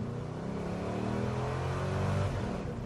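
A 1955 GMC Suburban Carryall engine rumbles through its exhaust pipes, a steady, fairly loud low idle or slow running with no talk over it.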